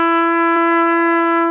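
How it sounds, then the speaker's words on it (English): A single sustained trumpet note played with the second valve held down throughout, from a beginner's trumpet lesson, steady and clear with no talking. "We're going to press our second valve down and leave it down the whole time."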